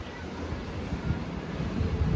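Strong wind buffets the microphone on the deck of the Norwegian Bliss cruise ship amid rough Alaskan seas, a steady low rumbling roar with no speech.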